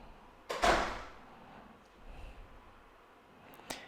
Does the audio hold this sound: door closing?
yes